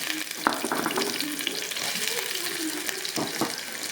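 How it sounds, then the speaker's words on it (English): Onions and garlic sizzling in hot oil, a soft, steady crackle broken by a few sharp clinks and scrapes of a utensil, with faint background voices. "we are going to put our onions and garlic when it's a little bit hot. We want to infuse flavor into the oil"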